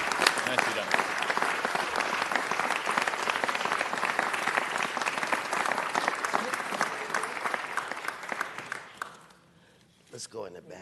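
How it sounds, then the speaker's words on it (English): A large crowd claps loudly and steadily for the Chief of Police at a ceremony, sustained for about nine seconds before dying away, followed by a few scattered claps. "One more round of applause."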